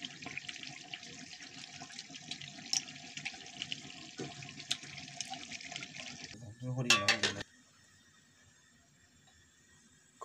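Water pours into a pot of duck meat after browning, a rushing splash near the end that cuts off abruptly, preceded by busy cooking clatter and background noise.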